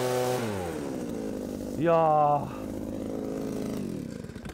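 A motorized leaf blower clears fallen leaves with a steady whining engine drone that shifts pitch, jumps to a louder, higher burst midway, then settles back. A person gives a short exclamation over it.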